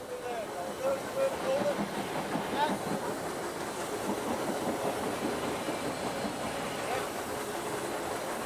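A steam locomotive hauls the heavy Orient Express train of about 540 tons up a bank near the summit, a steady muted rumble of wheels and working steam at moderate distance, with a faint voice briefly underneath.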